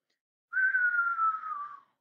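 A human voice imitates the whistle of a falling artillery shell: one long, clear whistled tone that slowly glides downward for about a second and a half, then stops, alone and close.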